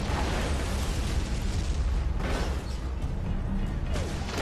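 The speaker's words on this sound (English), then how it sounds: "I can't manually aim the rocket launcher, and I'm gonna run out of rockets really quickly there, but it does let me bust up the APC." A rocket launcher blast slams into an armored personnel carrier in the video game Prototype 2, a loud, dense explosion with a rumbling low end that roars continuously without pause.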